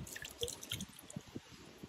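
At a natural spring, water flows with soft, irregular drips and small splashes over a faint steady trickle, close by and quiet.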